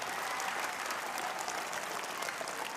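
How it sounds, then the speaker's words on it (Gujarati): A school audience at a costume programme for junior KG to grade 4 pupils gives the parents a round of applause: continuous, even crowd clapping, somewhat distant and soft, with no voices. "તે વાલીઓ માટે આપણે જોરદાર એકવાર તાળીઓ પાડી લઈએ."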